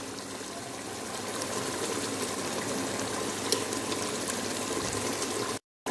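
Besan khandiya pieces sit cooking in hot ghee in a pot, giving a soft, steady bubbling sizzle that carries evenly before cutting off abruptly near the end.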